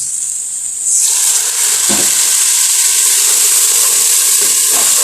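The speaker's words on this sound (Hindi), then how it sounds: "थोड़ा पानी डाल के मसाले को हम तैयार कर लेते हैं।" Masala spices sizzle loudly in a pan after water is added, a steady close hiss of steam and frying that swells after the first second and holds.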